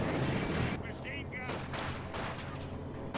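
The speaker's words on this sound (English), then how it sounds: "Maxim machine gun trying to engage the LMG Grants" Maxim machine gun firing in the strategy game Company of Heroes 2, dense bursts of rapid gunfire and battle noise filling the mix, with a voice speaking over parts of it.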